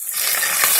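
Green chillies hit hot oil in a pan for a Telugu raw banana tamarind stew, giving a loud, close, continuous hiss and sizzle with no talk.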